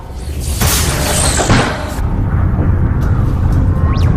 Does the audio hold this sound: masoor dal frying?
no